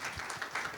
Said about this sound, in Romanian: Haideți să o aplaudăm pe Denisa, da, foarte bine zis.